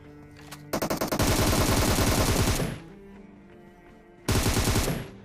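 Rapid automatic gunfire in PUBG, a burst of sharp shots growing into a dense sustained volley, then a pause and another loud burst near the end.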